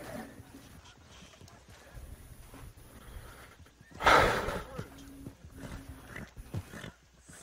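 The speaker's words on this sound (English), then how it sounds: "What the fuck's your issue, horse?" A horse in the video game Red Dead Redemption 2 gives one loud, close whinny midway, amid low ambient game sound and faint soft noises before and after.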